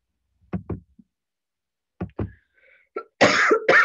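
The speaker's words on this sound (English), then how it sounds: "I'm so sorry about my coughing" Several harsh coughs from a lecturer recovering from asthma, a few short isolated bursts early on, then a louder, heavier run of coughing near the end, close up and with no talking.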